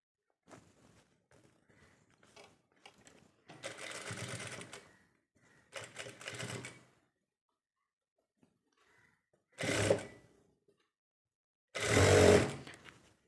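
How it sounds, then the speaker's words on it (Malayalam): A sewing machine stitches a churidar top seam made from nightgown fabric, running in four separate buzzing bursts, each roughly a second or two long, with quiet gaps and soft handling noises between them. "ഇവിടെ തുടങ്ങി സ്റ്റിച്ച് ചെയ്ത് ഇവിടെ കൊടുന്ന് നിർത്തുക"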